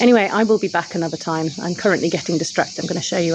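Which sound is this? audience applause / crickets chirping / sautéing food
crickets chirping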